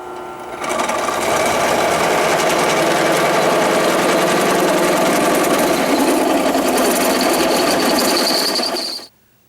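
A drill runs continuously through a metal plate being made as a repair part for a cart's bent shaft mount, a steady loud mechanical whine with a rising high-pitched edge, starting after a brief pause and cutting off abruptly near the end.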